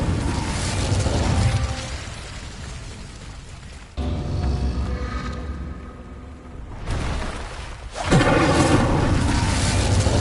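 Incendio fire spells cast in Hogwarts Legacy on PS5, loud whooshing bursts of flame in three roaring surges, each ending in an abrupt cut, with game sound effects layered over a dense rumbling bed.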